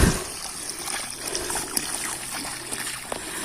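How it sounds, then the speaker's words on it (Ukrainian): Water poured onto loose soil around a newly planted tree peony in autumn, a soft steady trickle and splatter running throughout, close and moderately quiet with no talking. "І тепер я гарно проливаю водою."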